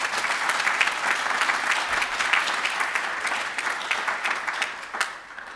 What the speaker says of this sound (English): So maybe just another round of applause for our frontline employees.